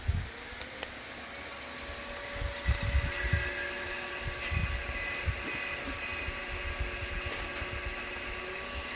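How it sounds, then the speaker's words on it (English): A repaired old electric motor runs at 60 hertz with fresh bearings, giving a steady mechanical hum and whine under low irregular thumps and rattles. "By golly, we're going to send this motor to 240 hertz."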